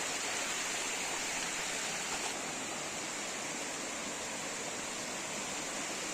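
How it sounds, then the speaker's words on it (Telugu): Rainwater pouring out from inside a clump of bushes after a downpour, a steady, dense rushing and gurgling flow close by, continuous throughout with no voices. "ఈ పొదల లోపల నుండి అయితే వాటర్ అయితే వస్తుంది"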